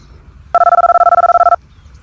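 One close telephone ring sounds as a rapid trilling burst lasting about a second, beginning and stopping sharply against a quiet background.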